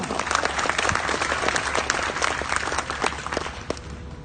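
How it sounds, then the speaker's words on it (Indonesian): Audience applause at a labor rally: dense, steady clapping from a large crowd, loud and continuous throughout with scattered sharper claps. "Aplaus buat kita semua."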